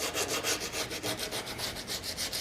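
Hand sanding rustic wood with 60-grit sandpaper, a rhythmic scratchy rubbing with about ten quick back-and-forth strokes, close and steady with no voices.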